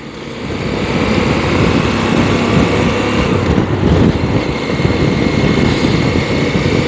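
A CFMOTO 800MT 2022 motorcycle with an 800 cc, 95 hp engine drones steadily on a test ride. The engine hum holds constant under heavy wind rush.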